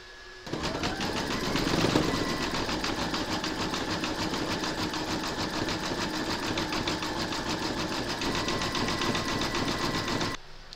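Embroidery machine zigzag-stitching the raw edge of a turkey appliqué on a quilted placemat, a rapid, steady mechanical buzz with fast rhythmic needle ticks, running continuously and close for about ten seconds before stopping.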